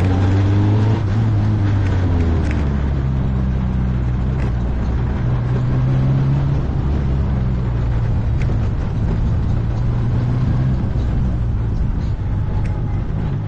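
A Formula Renault race car drives on track, its engine a loud, continuous roar with pitch sweeping up and down through gear changes, heard close and steady without pause.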